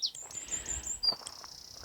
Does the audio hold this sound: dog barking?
no